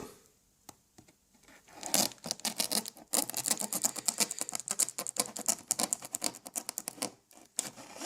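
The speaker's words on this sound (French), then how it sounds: "Alors on va le déballer tranquillement avec un petit couteau." A small knife slices through the cardboard and tape of a box holding a Lenovo G70-70 laptop with a 17-inch screen, giving rapid crackling, tearing and scratching bursts that run nearly continuously after a few sparse clicks.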